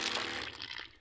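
Water from a solar-powered pump gushes and splashes in a continuous rush, fairly faint and heard alone for about a second.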